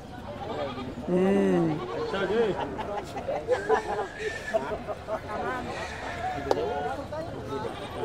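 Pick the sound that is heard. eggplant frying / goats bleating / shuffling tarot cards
goats bleating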